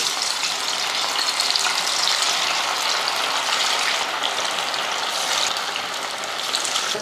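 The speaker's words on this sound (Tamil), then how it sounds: "எண்ணெயும் நல்லா காஞ்சி வந்துருச்சு பார்த்திங்கன்னா இப்போ மீன் வந்து பொரிச்சிடலாம்" Fish deep-frying in plenty of hot oil gives a constant, loud bubbling sizzle that holds steady throughout.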